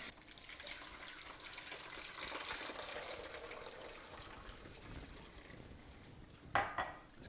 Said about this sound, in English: I'm just going to fill this up with some water here and rinse it out.